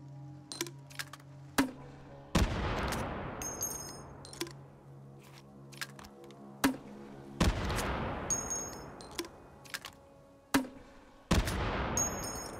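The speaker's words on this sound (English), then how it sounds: "That's right. Grenade launcher." A grenade launcher in the VR game Hot Dogs, Horseshoes & Hand Grenades thumps out several separate shots, each followed by a loud booming blast that rolls and decays, with clicks and mechanical handling between them.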